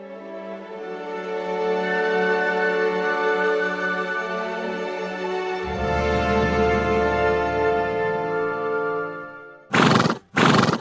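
Horses at a riding school give a long, loud whinny lasting several seconds, shifting pitch midway, followed by a couple of sharp, brief snorts or hoof sounds at the end.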